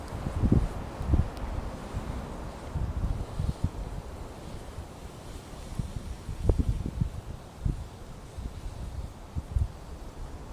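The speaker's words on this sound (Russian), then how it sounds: "Ветер какой-то поднялся." Gusty wind picks up outdoors beside a small spring campfire, rustling leaves and buffeting the microphone in uneven bursts and soft thumps, fairly faint with no talk.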